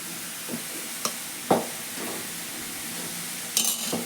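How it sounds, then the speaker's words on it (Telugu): A spoon stirs cooked rice with tomato and onion in a pan, giving a few soft scraping and sizzling touches at irregular intervals over a steady low hiss, close and fairly quiet. "ఈ రైస్ని కలుపుతున్నాను"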